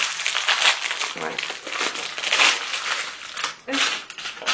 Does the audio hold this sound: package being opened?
yes